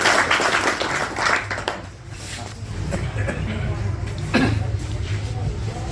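Audience applause at a goat farming seminar in Lillah, Pind Dadan Khan, Jhelum, welcoming a speaker to the stage; a steady wash of clapping from a seated crowd fills the room for several seconds with scattered coughs and murmurs.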